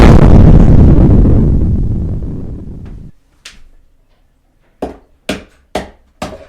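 A loud bomb explosion booms at the start, its rumbling roar slowly fading over about three seconds, followed by a scattering of sharp, separate knocks and thuds.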